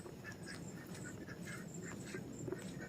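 A goose honks repeatedly at a short distance, a series of nasal calls in an irregular rhythm over quiet outdoor background noise with no talking.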